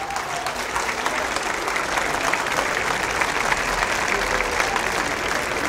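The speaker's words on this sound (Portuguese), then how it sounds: "peço uma forte salva de palmas para a atriz Jalila Cara" Strong, sustained applause from an audience at a poetry performance, honoring an actress; dense clapping holds at a steady, fairly loud level for the whole stretch, with no distinct voices above it.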